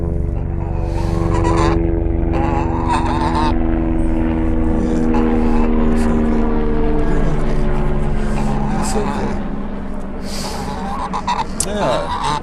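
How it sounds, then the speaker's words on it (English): Steady low rotor drone of a helicopter passing overhead, loud and continuous, with a few honks and a voice briefly over it. "The helicopter, hang on."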